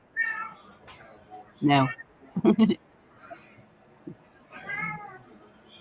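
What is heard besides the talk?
cat meowing at the window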